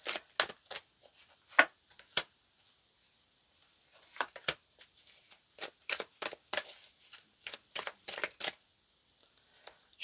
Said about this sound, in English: let's bring out a couple tarot cards here.